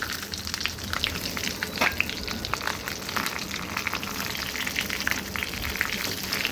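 Masala-stuffed capsicum (dhabu mirchi) frying in hot oil in a kadhai, a steady crackling sizzle with scattered pops, close and fairly quiet, no voices.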